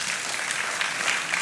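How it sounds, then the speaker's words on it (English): An audience at a macroeconomic outlook conference claps together, a dense and even burst of applause heard up close for a brief moment with no voice over it. "I think you should give us a round of applause for that."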